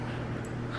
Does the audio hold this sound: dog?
yes